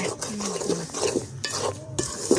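A utensil stirs grated coconut roasting in a pan for Jaffna-style laddu, giving a steady scraping and shuffling with faint metallic clinks against the pan, close and continuous.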